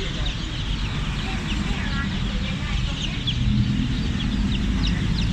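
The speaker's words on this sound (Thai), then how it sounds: "ลูกไก่พันไข่ครับ" A box of about 100 newly hatched laying-breed chicks, only a few days old, peeps continuously in a dense, shrill chorus close by, with someone speaking over it.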